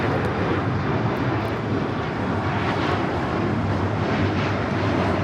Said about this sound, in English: This is Alaska Airlines 1430 taking off to Puerto Vallarta on the MAX 8.